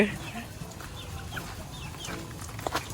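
Pet chickens being fed alongside ducks cluck softly and repeatedly nearby, with a few faint voices in the background.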